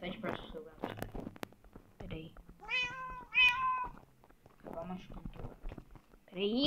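A cat in the Minecraft video game gives a couple of clear meows amid clicks and game noise, while a person talks throughout.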